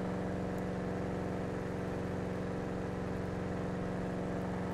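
Sabre Turbo car engine in GTA 5 running at a steady, even rumble with a pronounced low hum, holding constant without revving changes for the whole stretch.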